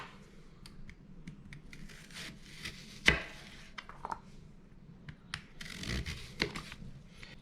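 A knife chops an onion on a cutting board with a few sparse, irregular cuts, one sharper knock midway, in a quiet home kitchen with no talking.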